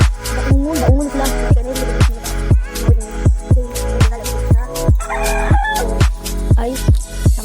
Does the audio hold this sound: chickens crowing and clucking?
yes